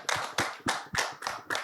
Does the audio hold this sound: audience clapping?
yes